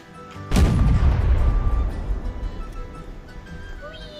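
A single loud cannon blast in a musket-era video game, a sharp boom followed by a long rumbling decay that fades over a few seconds.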